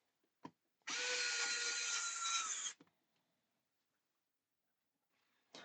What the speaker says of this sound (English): I think this time I can go back to my